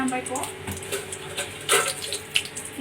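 Whole spices (cinnamon, cardamom, cloves and a bay leaf) dropped into hot oil for a chana masala gravy, crackling and sizzling in close bursts over a steady hiss, with a voice talking throughout.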